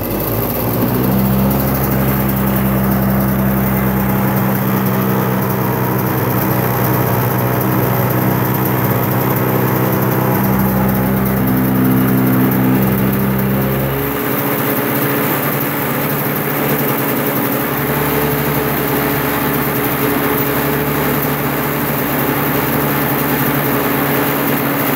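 Honda CR125 two-stroke engine in a go-kart, idling in neutral on the ground after an electric start, a loud steady buzzing drone that shifts pitch midway and keeps running alone.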